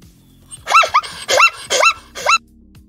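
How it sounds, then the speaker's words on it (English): A zebra gives a loud barking call in four sharp, separate bursts, each rising and falling, heard alone with no talk. "Zebra."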